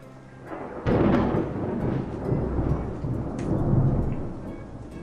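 Thunder sound effect for a video game, a deep rolling rumble that swells and lingers for several seconds over a steady hiss of light rain.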